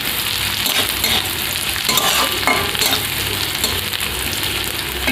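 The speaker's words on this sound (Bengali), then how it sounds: "তো পেঁয়াজটা এরকম ভাজা হয়ে গেছে।" Onions sizzle steadily in hot oil in a pan while being stirred for a khichuri, a loud continuous frying hiss with scraping strokes underneath.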